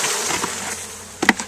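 A honeybee swarm buzzing near a hive after being moved from a swarm trap, a steady continuous hum with a brief louder burst near the end, no voices.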